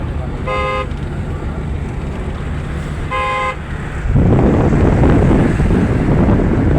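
A car horn gives two short honks a few seconds apart during a driving lesson, followed by loud rushing wind and road noise.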